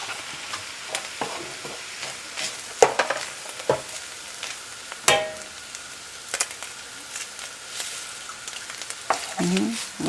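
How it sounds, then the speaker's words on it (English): Eggs stir-fried with bitter melon in a pan: steady sizzling under repeated scraping and clattering strokes of a utensil, close and moderately loud, with no talking. "So after you add on the egg, you just quick stir in it"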